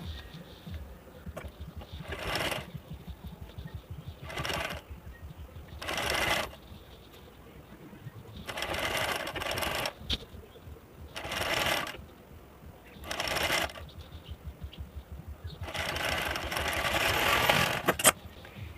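Sewing machine stitching a folded seam on a blouse sleeve, running in several separate bursts of a few seconds each with short pauses between, close and fairly loud, with no talking.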